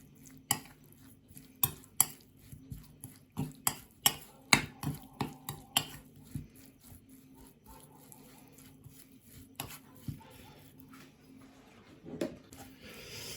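A spoon clinks and scrapes against a pot of chicken soup as flour is stirred in, a rhythmic series of sharp taps, busy at first, then slowing and becoming more sparse.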